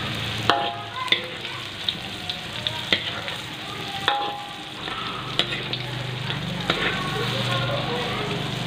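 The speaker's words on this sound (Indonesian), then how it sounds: "Kita akan menggoreng tahunya terlebih dahulu ya teman-teman." Tofu frying in hot oil, a steady close sizzle with crackling pops and occasional clinks of a utensil against the pan, under someone speaking.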